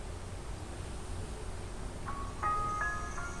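A short melodic chime of boot music from a Hiltux 1.8 LiveUSB starting on a Windows 8 computer, a few bright tones arriving near the end over steady fan-like background hum.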